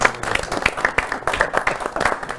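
A live audience applauds a generous donor at a fundraising campaign gathering, with dense hand clapping running steadily through the moment. Individual claps stand out close by over the broader crowd.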